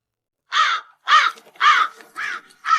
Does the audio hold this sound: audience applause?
no